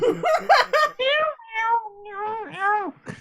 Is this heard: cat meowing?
yes